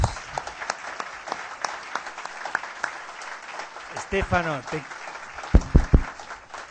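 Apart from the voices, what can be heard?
audience applause for speaker Stefano Zamagni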